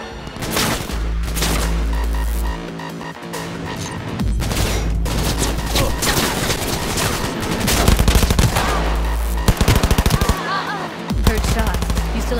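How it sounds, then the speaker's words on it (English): Video game gunfire rips through in long, loud bursts of rapid automatic shots, joined by booming hits and layered with players talking over the action. "Heard shots."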